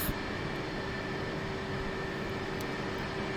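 F/A-18 Hornet jet engines in the DCS flight game, idling while lined up for takeoff, a steady loud whine and hiss that holds level throughout.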